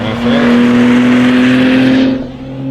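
A turbocharged Porsche racing past on a track, its engine a loud, sustained droning roar close by that holds steady before quickly dropping away as the car passes.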